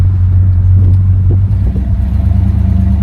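A 1970 Buick LeSabre's engine rumbles close and steady as the car accelerates, its low drone holding throughout with no talking.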